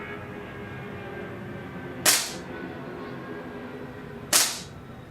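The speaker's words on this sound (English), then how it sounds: "So I know I'm dry firing it. I'm going to be holding the slide stay down to function the gun." A Tokyo Marui Desert Eagle .50AE gas blowback pistol is dry fired twice, each a sharp, loud crack with a quick slide snap. The shots sit about two seconds apart over a quiet room hum.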